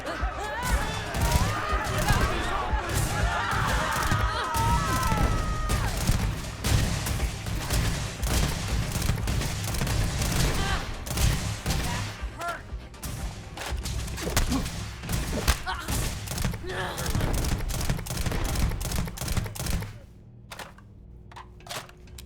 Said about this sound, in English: Time to test out the new shotgun.